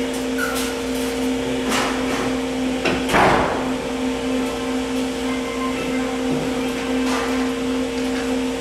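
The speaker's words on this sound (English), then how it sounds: "Pump's been running this whole time." Hydraulic pump of a 1970s Dover elevator in an office center hums steadily with a constant tonal whine and drone, a few clicks and a brief rattling clunk mid-way, no talk.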